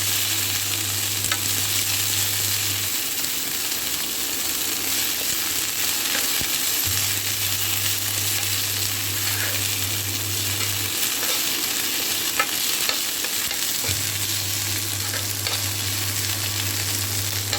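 Coriander leaves and curry leaves sizzle and fry in hot oil, a steady close crackle throughout with occasional stirring scrapes and no talking.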